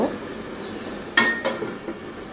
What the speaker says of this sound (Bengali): এখন আমি আলুটাকে ঢেকে দেব